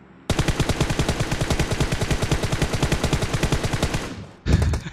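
Rapid automatic gunfire from PUBG Mobile rattles in a loud, sustained burst lasting about four seconds, followed by a short heavy blast, with no talking over it.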